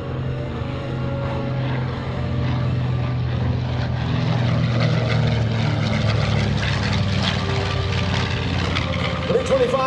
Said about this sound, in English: history lives again as the B-25 approaches from your right